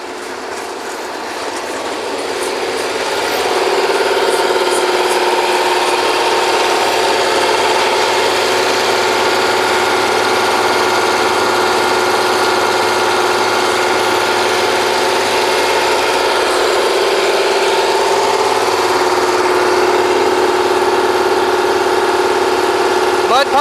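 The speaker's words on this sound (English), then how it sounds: "Mud pumps, mud pump 1 and mud pump 2." Mud pumps running on a historical Kelly drilling rig, a loud, steady mechanical rumble and drone that swells over the first seconds and then holds without a break.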